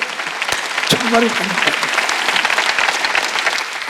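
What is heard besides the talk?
applause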